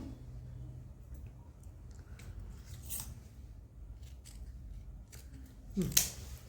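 Scissors snipping through chudidar top fabric, a few soft scattered cuts over low background hum, ending in one sharper close snip.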